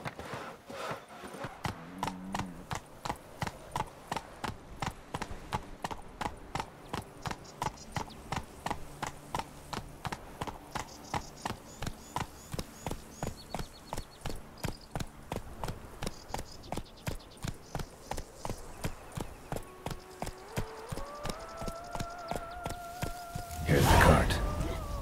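Horse hooves clip-clop in a fast, steady rhythm throughout in The Witcher 3, with brief game voices over it and a louder burst near the end.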